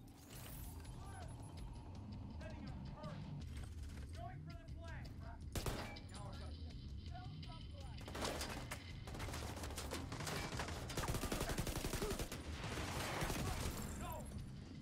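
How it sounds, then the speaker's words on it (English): Gunfire and RPG shots in a combat video game come as repeated rapid bursts and heavy blasts over a steady rumbling background, with a voice talking throughout. "Stop shooting RPGs at me."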